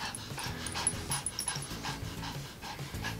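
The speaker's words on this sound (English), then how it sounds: "You can like literally hear Layla breathing." A dog pants in quick, rhythmic breaths close to the microphone, with soft whimpering squeaks mixed in, fairly quiet and with no talk over it.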